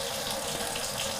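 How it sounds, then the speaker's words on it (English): Water runs steadily to rinse cleaner off a surface, a brief, even hissing splash with no voices. "you put more cleaner on it and then rinse it all off"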